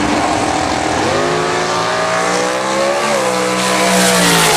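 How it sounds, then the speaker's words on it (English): Drag race at Jackson Dragway between a Camaro and an M&M chassis dragster, loud high-revving racing engines roaring close by with rising pitch as they accelerate, continuous and dense with no talk. "Christy Smith in the Camaro, Jesse Bobo in the M&M chassis dragster."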